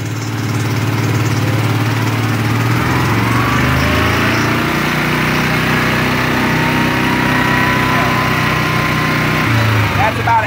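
A Grizzly 700 EHS racing ATV engine runs at low speed on quarter throttle, a loud, close, steady drone that holds evenly through the whole stretch with a slight rise in pitch partway.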